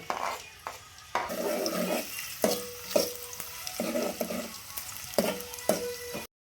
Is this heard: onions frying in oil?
yes